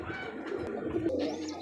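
Pigeons on a farm cooing softly and repeatedly at close range, with a faint background murmur and no speech.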